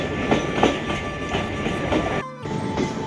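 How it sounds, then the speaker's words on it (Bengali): A train rolls past close by at a Kolkata level crossing, wheels thumping in a regular clickety-clack rhythm over the rail joints under a steady loud rumble and faint wheel squeal. "এখন ট্রেন ক্রস করবে,"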